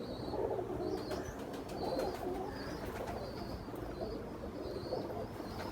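A pigeon coos in soft, repeated low calls, steady and close, while faint chirps from other birds sound in the background.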